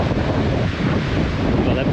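Steady wind buffets the microphone on a Scottish beach beside a golf course, with a broad, continuous wash of sea surf underneath and no clear breaks between waves.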